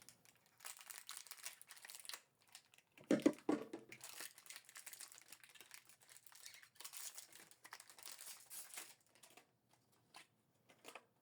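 Plastic wrapping peeled off an HP ink cartridge during printer setup, a short burst of crinkling near the middle amid faint quiet handling, no talk.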